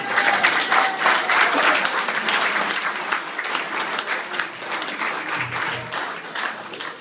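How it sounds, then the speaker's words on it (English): Loud, close round of applause from the crowd at a Vietnam veterans fundraising event, dense clapping that starts strong and gradually thins toward the end. "Let's give them a round of applause."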